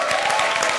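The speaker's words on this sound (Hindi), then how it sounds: "जोरदार तालियां।" Studio audience on a Hindi comedy show bursts into a short, dense round of applause, loud and continuous for under a second.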